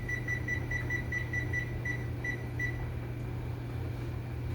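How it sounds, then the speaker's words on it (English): A kitchen timer beeps about nine times in a quick, even rhythm, then falls silent over a steady appliance hum. "Starting the timer."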